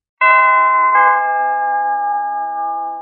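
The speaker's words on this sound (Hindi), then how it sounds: "16 मई की सुबह 6 बजे घर की डोरबेल बजी।" A household doorbell rings with a clear two-tone ding-dong, the second chime lower and lingering as it slowly fades, loud and alone against silence.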